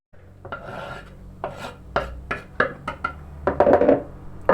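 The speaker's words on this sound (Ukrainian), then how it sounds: "І зараз будемо нарізати. Почнемо з зелені дрібненько" Fresh herbs being finely chopped with a knife on a board, a close series of quick scraping, rasping cuts that come in irregular bursts and grow busier toward the end.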